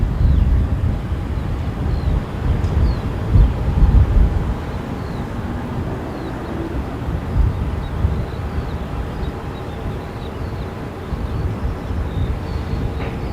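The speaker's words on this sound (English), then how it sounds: "Just had an EasyJet 320 there." An EasyJet Airbus A320 airliner passes at a distance, its low rumbling jet noise heard as a moderate, steady roar mixed with light wind, swelling slightly near the start.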